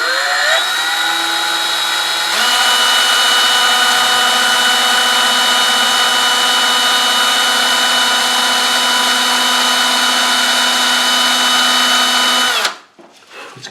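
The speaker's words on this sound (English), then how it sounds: "Now I'm going to drill them until my rivets go in." A power drill runs continuously while boring rivet holes, a loud steady whine that climbs in pitch at the start, holds for about ten seconds, then cuts off abruptly.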